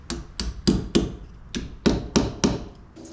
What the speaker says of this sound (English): now that my 2 holes are drilled here, you hammer these in